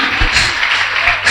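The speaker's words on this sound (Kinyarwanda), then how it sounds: "amashyi menshi." An audience at a gospel church concert claps loudly and continuously in a brief burst of applause, close and full.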